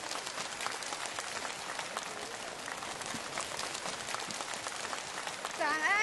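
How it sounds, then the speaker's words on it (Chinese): An audience at a Buddhist testimony-sharing gathering claps in a steady, even stream of applause for about six seconds, with a voice starting up at the very end. "让我们掌声欢迎"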